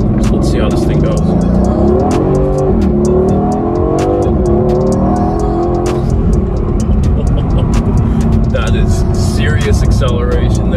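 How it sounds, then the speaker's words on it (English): A 2021 Aston Martin Vantage with a 4.0-litre twin-turbo V8 accelerating, its engine note rising and falling as it pulls hard, loud and close throughout, with someone talking over it. "Acceleration there."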